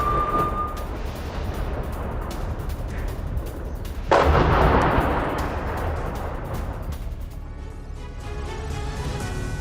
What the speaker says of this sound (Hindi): गाजा में दहला देने वाला विध्वंस, बमबारी के बाद उठा धुएं का गुबार।